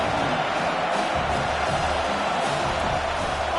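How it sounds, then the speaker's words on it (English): Roaring crowd in a college football stadium, a dense, sustained wash of cheering and shouting that stays loud and even throughout, with no clear break. "listen to the roar of this crowd"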